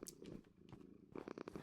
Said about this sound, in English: The cat starts to purr.